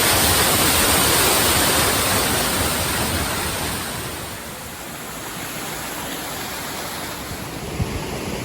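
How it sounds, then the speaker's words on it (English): Broad, roaring rush of a waterfall on a mountain hike in Mesopotamia, New Zealand, heard close and loud as a constant wash of falling water, easing slightly midway then holding steady. "That's quite an impressive waterfall there"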